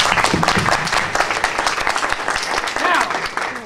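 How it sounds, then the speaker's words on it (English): Audience applause for dancers after a ballet performance, loud continuous clapping from a crowd, with scattered voices and a few excited cries mixed in. "Another round of applause for our dancers."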